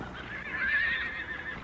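A wild horse gives a single drawn-out whinny, rising and wavering before fading, heard fairly clearly over a soft outdoor background with no voices.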